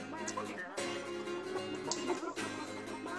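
Chickens cluck in the VR game Chicken Chase on HTC Vive, with repeated short clucks and squawks close up over a steady game soundtrack.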